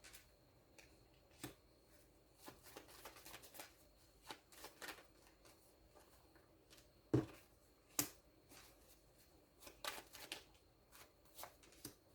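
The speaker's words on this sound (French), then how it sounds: "je vais peut-être essayer de faire en sorte que vous voyez que je bats les cartes" A deck of tarot cards is shuffled by hand close up, giving soft, irregular riffling and slapping flicks with a few sharper snaps and quiet gaps between them, and nobody speaks.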